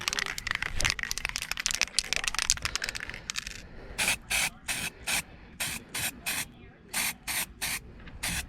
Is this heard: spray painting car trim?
yes